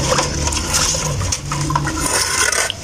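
Small hard bits of eggshell rattle and slosh in water in steady shaking bursts, with crunchy scraping clicks close by.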